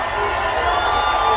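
A large crowd at an Albuquerque rally cheers and whoops in a loud, dense, unbroken roar.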